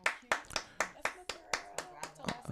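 Studio clapping sends off a departing guest on a morning talk show: about ten sharp, close hand claps in an even, brisk rhythm, with faint talk between them.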